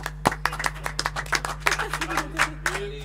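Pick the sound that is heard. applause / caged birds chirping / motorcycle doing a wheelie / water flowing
applause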